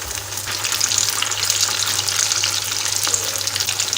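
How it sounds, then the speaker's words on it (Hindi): Chicken potato pinwheel samosas drop into hot oil and fry, giving a continuous close crackling sizzle that stays loud and steady throughout, with no voice. "ऑयल यहाँ पर गर्म है और हम इस ऑयल में डाल देंगे। इनको हम लाइट गोल्डन ब्राउन होने तक फ्राई करेंगे।"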